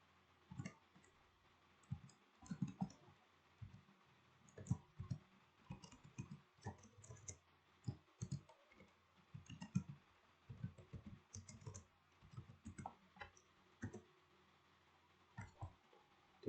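Keys clatter on a computer keyboard as a command is typed during a GNU/Linux administration lesson, with quick irregular bursts of clicks and short pauses, faint and close, without speech.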